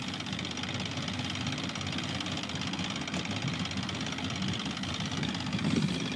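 A small gasoline engine on a Skeeter Hawk mosquito trap idles steadily while warming up, a low, even putter with slight knocking that holds constant throughout, no voices.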